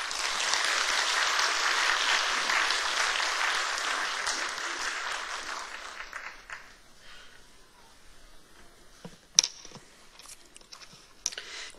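A church congregation at a New Year revival service claps to welcome the guest preacher, a full wash of applause lasting about six seconds that then dies away, leaving scattered small taps and knocks in a quiet room.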